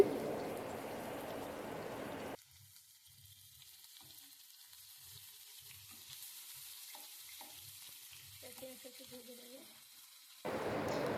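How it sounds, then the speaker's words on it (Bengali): Onions frying in hot oil in a wok give a loud, dense sizzle at the start and again at the end. A quieter stretch between holds soft stirring knocks and a brief voice. "তেলটা গরম হয়ে গেছে, এবারে পেঁয়াজটা দিয়ে দিচ্ছি।"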